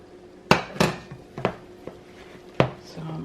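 A utensil knocks against a pan as onion, garlic and spinach are stirred, giving about five sharp clinks at uneven intervals over a quiet background.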